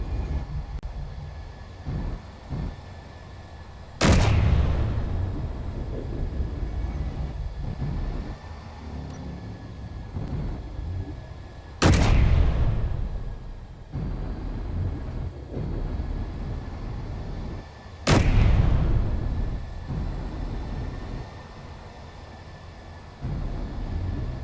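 Three loud, sharp gunshot reports spaced several seconds apart inside the Space Engineers game, each a broadband crack with a short decaying tail over a steady low engine-like rumble.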